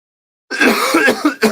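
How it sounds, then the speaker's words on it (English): A person coughs hard and clears their throat after a half-second of silence, a close, loud burst with a second short cough at the end. "Sorry for coughing all in your ears."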